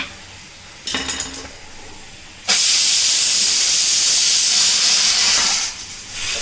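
A pressure cooker cooking rice releases a loud, continuous hiss of steam for about three seconds, preceded by a brief metallic rattle and a quieter stretch, close by with no talking.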